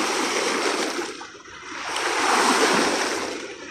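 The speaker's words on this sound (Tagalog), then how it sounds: "Kaya maganda ang alon." Ocean surf rolling in at high tide on a beach during a morning walk with dogs: a steady, loud wash of breaking waves that dips briefly and then swells again, with no voices.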